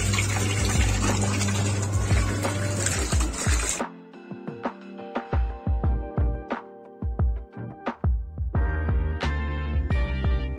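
Water runs into a washing machine at home, a steady gushing rush for several seconds that then breaks into uneven splashing and clattering bursts, close and fairly loud.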